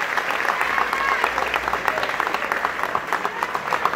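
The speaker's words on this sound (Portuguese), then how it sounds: "E eu tenho que pedir a vocês também uma salva de palmas ao César Gontijo e ao Evandro Lossaco" Crowd applause at a PSDB political event celebrating a primary victory, dense rhythmic clapping from a large audience with a pulsing beat, steady and fairly close throughout.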